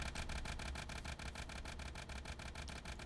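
A diesel V8 engine with a spinning flywheel runs in a video game modpack, producing a loud, even chugging with fast regular pulses throughout and no voices.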